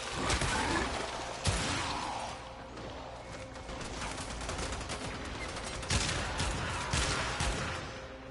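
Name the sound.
shotgun gunfire in the video game Warframe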